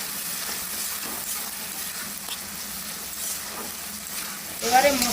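Tomato and green chili sizzle and fry in a wet masala base for a chicken ghugni, a steady close hiss with small crackles and a brief louder stir-and-spatter burst near the end.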